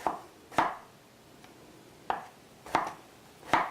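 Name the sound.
knife slicing a peeled cucumber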